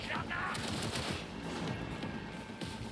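Rapid bursts of video game gunfire crackle through a dense, noisy livestream mix, volleys repeating across the clip at a steady loud level with faint chatter underneath.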